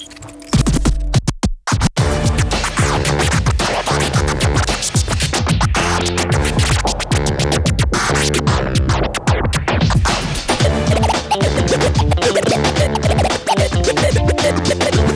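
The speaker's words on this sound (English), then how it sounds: "just rubbing the record back and forth on time with the fader out" Vinyl record rubbed back and forth by a DJ in time with the beat, fader held out, giving loud, continuous rhythmic scratches over a steady hip-hop groove with no talking.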